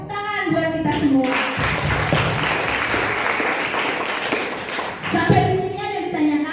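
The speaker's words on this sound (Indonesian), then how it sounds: "Oke, tepuk tangan buat kita semua." A class of students breaks into group applause together, a dense burst of close, loud clapping that lasts several seconds, with voices audible before and after it.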